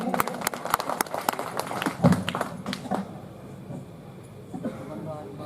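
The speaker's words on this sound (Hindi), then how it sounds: "आप तमाम सामाईन इतने शानदार मुशायरे के लिए एक मरतबा ताली बजा के स्वागत कीजिए" Applause from an audience at a mushaira poetry gathering during an Urs celebration in Banswara, Rajasthan, brisk clapping that swells then fades within a few seconds, fairly faint in a reverberant space.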